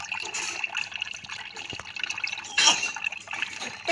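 The last of the coconut water drips from a holed coconut, a few faint, close drips and small splashes in otherwise quiet surroundings.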